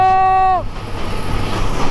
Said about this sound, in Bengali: সেই ব্রিটিশ পিরিয়ডের আত্রাই রেল সেতুটা আমরা অতিক্রম করছি সিলাহানি এক্সপ্রেস ট্রেনে